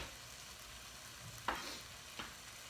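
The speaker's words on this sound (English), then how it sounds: "I'm just going to keep stirring it and leaving it over the heat to cook in the goose fat" Vegetable hash sizzles steadily in goose fat, a constant close-up frying hiss with two sharp clicks of a utensil stirring the pan.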